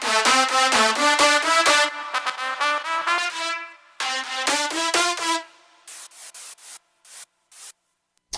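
Layered synth lead sounds with a snappy attack play together in a fast, punchy run of bright stabbing notes, a pause, another burst, then short choppy hits trailing off.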